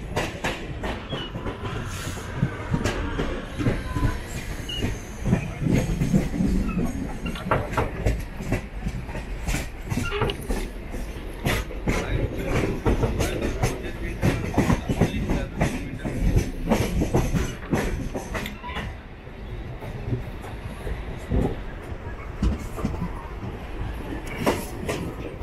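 A Mumbai suburban EMU train runs toward Vashi station, its wheels keeping up a loud, steady clickety-clack with rhythmic rail-joint knocks and occasional squeals throughout.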